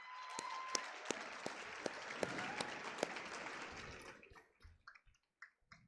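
A high school prom assembly audience applauds with dense, steady clapping and a few sharp louder claps, then the applause thins out into scattered last claps before stopping.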